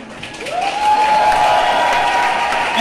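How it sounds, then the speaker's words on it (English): Steady applause from a group of students at a college Teacher's Day event, with a sustained tone and faint voices underneath, swelling after a moment and holding loud to the end. "I request all the students to clap our hands"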